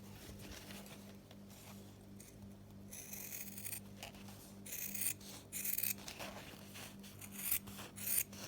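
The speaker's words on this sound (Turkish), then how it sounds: "Bu şekilde kesimimi dikkatli bir şekilde yapıyorum." Fabric for a shirt collar cut carefully with scissors: soft, close snips and rasping blade strokes, growing busier toward the end over a low steady hum, with no talking.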